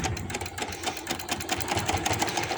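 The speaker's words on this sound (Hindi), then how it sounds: "इस तरह से पट्टी को ऊपर कर लेना है और सिलाई लगा देनी है" A sewing machine stitches a band onto a baby boy's hoodie, a rapid, steady mechanical whirr with fast needle ticks, close and continuous without talk.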